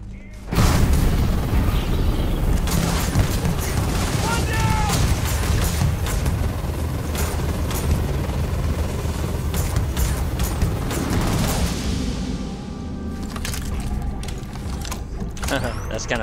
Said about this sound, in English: this is a modded shotgun. I have explosive rounds on it, and it is dealing an enormous amount of damage